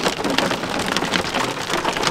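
Steady heavy rain patters and hisses on a surface during stormy weather, a dense, continuous wash of droplets close by with no talking.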